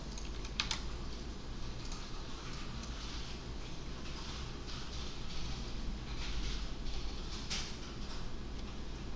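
Keys clatter on a computer keyboard as a search for Oracle is typed into Chrome, a quiet, steady run of quick clicks with a few sharper taps and no one speaking.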